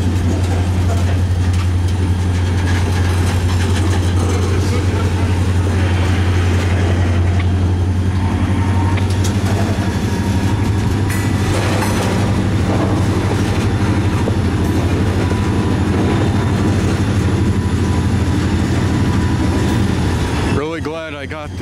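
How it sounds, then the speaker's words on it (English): A CSX locomotive pushes train cars back, with a heavy low engine drone that fades partway through, then rumbling, clanking and squealing from the rolling cars, loud and close. "I heard the locomotive wind up, and now they're pushing back some more."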